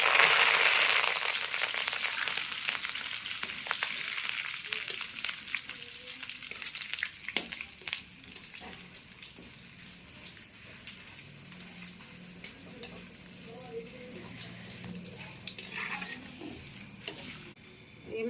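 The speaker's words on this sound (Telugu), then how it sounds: "ఒక 5-6 రెమ్మలకి కరివేపాకు కూడా వేయించుకుందాం." Five or six sprigs of curry leaves fry in hot oil for khara boondi, opening with a loud crackling burst that quickly settles into a softer, sputtering sizzle with scattered pops and faint background voices.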